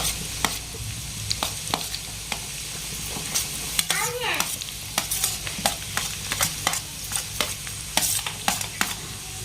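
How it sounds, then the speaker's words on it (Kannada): Finely chopped onions fry over high flame in a pan for a restaurant-style cabbage manchurian gravy, a steady close sizzle broken by repeated scraping stirs of a spoon against the pan. "ಇದನ್ನ ಹೈ ಫ್ಲೇಮ್ ಒಳಗೆ ಒಂದು ಸ್ವಲ್ಪ ಆಗಬೇಕು ನೋಡಿರಿ ಉಳ್ಳಾಗಡ್ಡಿ ಆ ಥರ ಫ್ರೈ ಮಾಡ್ಕೊಳ್ಳೋಣ್ರಿ"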